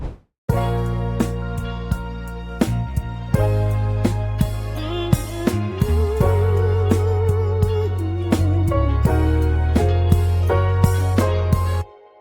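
A soul music sample loop with melodic elements, built for a beat: warm sustained chords over deep bass, a wavering lead line and steady percussive hits, starting after a short silence and cutting off abruptly.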